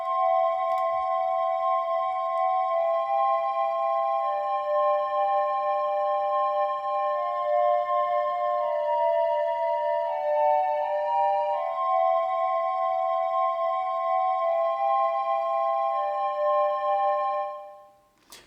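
Soloed synth pad chords from a jazzy lofi hip-hop beat hold sustained, soft tones that shift smoothly between voicings, alone and steady, then fade out at the end.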